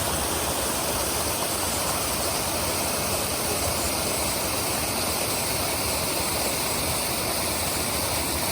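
A waterfall on the Morrison Run trail in Allegheny National Forest, a steady broadband rush of falling water that stays loud and constant throughout, with no voices.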